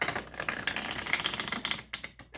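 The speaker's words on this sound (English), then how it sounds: "Guess I'll go ahead and start shuffling then," Rapid, crisp clicking and riffling of tarot cards being shuffled close up, in quick irregular bursts that taper off near the end.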